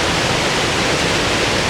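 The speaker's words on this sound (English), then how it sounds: "I don't know if you can hear me above the noise of the water" Water rushes over a weir in autumn, a loud, dense, unbroken roar of falling water close by with no other sounds standing out.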